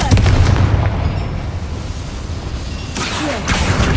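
In the video game Hogwarts Legacy, a Confringo spell sets off a loud, booming explosion that rumbles and fades over a few seconds, followed by a second crackling burst.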